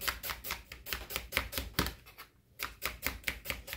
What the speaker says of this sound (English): you can now chop the onion up